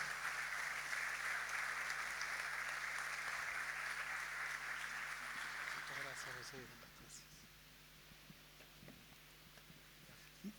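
Applause from a church congregation during an Iglesia de Dios plenary fills the first six seconds as a steady broadband patter, then fades away into quieter room sound with faint shuffles and movement.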